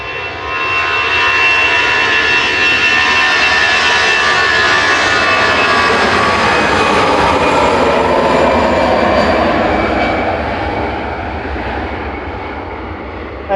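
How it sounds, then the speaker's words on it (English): An easyJet jet airliner departs Manchester Airport, a loud, sustained engine roar with a whining tone that sweeps slowly as the aircraft climbs away, fading slightly toward the end. "EasyJet heading out now to"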